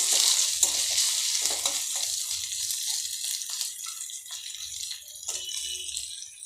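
Peas and boiled potato get stirred around a frying pan, producing a hissing sizzle with repeated scraping and rattling spoon strokes that gradually quiet down.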